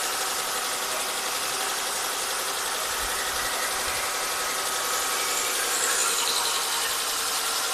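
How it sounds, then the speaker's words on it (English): A 3.6L Pentastar V6 in a Dodge Grand Caravan idles after timing work, a steady, close, loud mechanical hum and whir with a faint ticking texture and no break or change in pitch throughout. "Will it idle down and still run smooth?"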